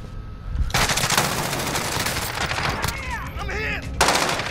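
Loud rapid bursts of automatic gunfire in a Call of Duty match, close and sustained across the clip with brief gaps, with sharp whizzing and ricochet-like effects mixed in.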